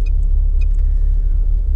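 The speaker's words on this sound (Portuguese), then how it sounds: "eu tô com o carro na marcha lenta" A turbocharged Volkswagen Gol GTS engine idles at 1000 RPM with a steady low rumble, close and continuous, with a couple of faint high beeps early on.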